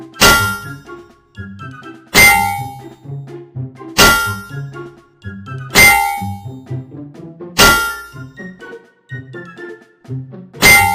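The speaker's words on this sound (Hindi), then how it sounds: "डंडों से उस कार की खूब धुनाई की" Cartoon sound effect of sticks smashing a car: loud metallic clangs strike about every two seconds, each ringing with a bright tone, with smaller rattling knocks between them.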